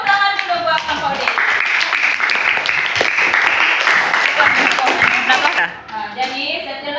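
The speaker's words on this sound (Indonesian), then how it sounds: "Tepuk tangan dulu buat kelompok D." A classroom of young students applauds a student group, Group D, with steady, dense clapping and children's voices mixed in, sustained for several seconds before thinning out near the end.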